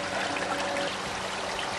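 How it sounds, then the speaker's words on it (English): Pond water pours down a small garden waterfall in a steady, close splashing rush, with no voices over it. "the water is starting to flow down the waterfall"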